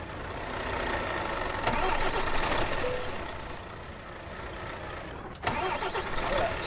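A truck engine in Euro Truck Simulator 2 cranks and catches, settling into a mid-pitched idle rumble, then a sharp click and a second surge partway through, steady and close.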